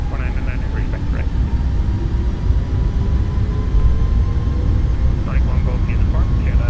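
Engines of an iFly 737 MAX at takeoff power in Microsoft Flight Simulator make a steady, broad jet roar that holds even throughout, with faint tonal whine layered over the rumble and a voice speaking over it.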